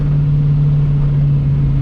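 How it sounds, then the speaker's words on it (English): Loud, steady low engine drone of a car driving past on a narrow road, a constant hum without breaks. "there's a car coming"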